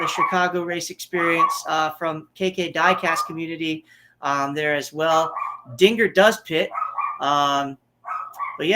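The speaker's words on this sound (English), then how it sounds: "I apologize for my dog losing his mind in the background." A pet dog barks excitedly in the background while someone talks continuously over it during a live stream about the Chicago street race.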